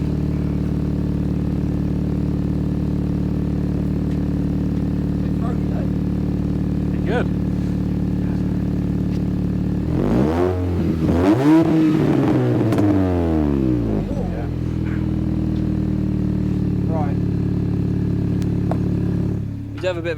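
A Mini's engine fitted with a new exhaust that has a slight leak idles steadily with a low rumble, then revs up sharply and falls back to idle; people talk briefly nearby.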